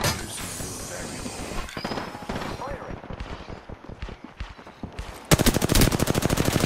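Gunfire in the video game Apex Legends, rapid cracking shots in uneven bursts that build into a loud, fast automatic volley near the end, with voices talking over parts of it.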